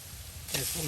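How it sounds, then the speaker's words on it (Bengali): Potatoes and dried chilies are stir-fried in a pan in a village kitchen, and a soft sizzle swells suddenly into a brighter, louder hiss partway through this very short moment. "সুন্দর করে মরিচগুলা দিয়া আলু ভাজির সাথে উলট পালট করে যাচ্ছে"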